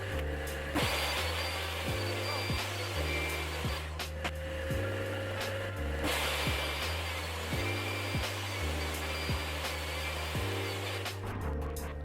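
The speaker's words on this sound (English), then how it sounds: "I used the router to give a small chamfer on the inside edges of the box and cut out a rebate" A router cuts a small chamfer and a rebate along oak box pieces for a bedside table, its steady high motor whine holding throughout with repeated pulsing passes as the bit bites the wood, loud and close.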